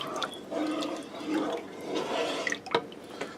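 Spoon stirring thickening milk in a pot of cream of ham soup in a Copper Chef XL pan, giving a continuous soft swishing scrape with a few light knocks near the end.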